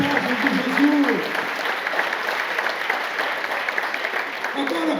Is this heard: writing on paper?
no